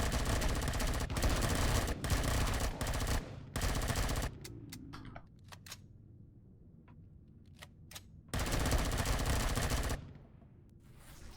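Assault rifle fire in the space survival game Empyrion Galactic Survival: long sustained bursts of rapid automatic shots, loud and close, broken by a quieter stretch of a few isolated cracks before another heavy burst.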